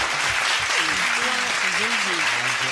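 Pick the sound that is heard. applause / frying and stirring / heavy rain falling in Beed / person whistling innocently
applause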